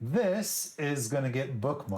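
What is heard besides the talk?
No distinct noise like a dog, phone or traffic.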